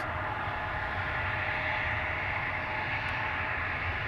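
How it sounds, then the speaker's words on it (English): A KLM Boeing 737 departing Amsterdam Schiphol for Athens, a constant broadband engine rumble and hiss, moderately loud and steady for the whole stretch, with no talk. "We have a 737 lined up over here. That's going to go to Athens."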